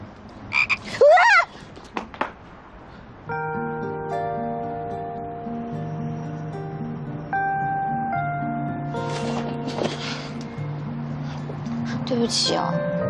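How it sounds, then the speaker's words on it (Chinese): A toad gives a few loud croaks near the start, then music and voices take over. "你旁边有只蛤蟆，你知道吗？"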